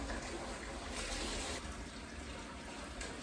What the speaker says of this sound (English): I'm going to leave this in soak when I work out, so I'm going to make it extra hot water.